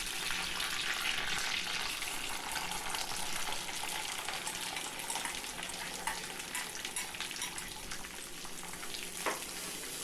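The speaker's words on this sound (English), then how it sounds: "Heat 2 tablespoons of oil in a thick bottomed pan over medium flame and add 1 sprig of curry leaves and 3 cups of finely chopped onions." Curry leaves and finely chopped onions fry in hot oil in a thick-bottomed pan over a medium flame, giving a steady, even sizzle that carries on without a break and with no voices.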